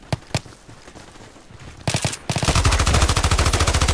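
Rapid automatic gunfire in Battlefield 2 with the Nightfall 2048 mod: a few separate shots at first, then a loud, sustained burst of evenly spaced rounds close by.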